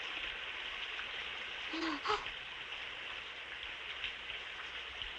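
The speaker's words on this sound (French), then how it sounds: "voilà qu'il commence à pleuvoir" Steady soft hiss of rain falling across the whole stretch, with a faint low hoot-like tone briefly rising near the middle.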